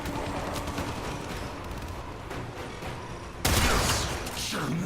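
Gunshots from the video game Warframe crackle in a continuous rapid stream over game ambience, then a louder burst hits near the end.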